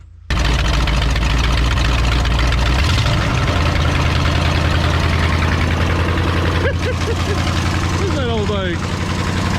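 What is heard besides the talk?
1971 Ford F100 360 engine running after cranking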